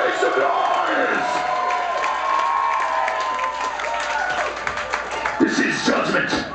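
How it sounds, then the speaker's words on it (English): A crowd at a metal concert at Les Foufounes Electriques in Montreal cheers, whoops and claps, a loud continuous roar of voices and applause with shouts rising above it. "Let's give them a big round of applause."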